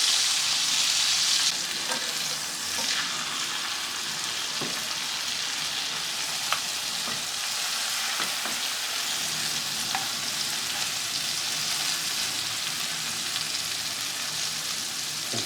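Longganisa sausages sizzle on a barbecue grill, a steady close crackling hiss of fat with scattered pops and occasional scraping clicks, and no talking.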